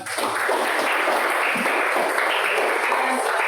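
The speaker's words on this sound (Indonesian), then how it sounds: "Ya, tepuk tangan buat kelompok 2." Classroom listeners clap for a presentation group, a steady, moderately loud patter of hands that starts abruptly and carries on evenly, with faint voices mixed in.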